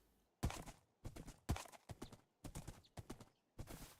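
Horse hooves clopping while riding in Minecraft, a few loud clustered bursts of clip-clop steps at an uneven gait, close and clear with no talking.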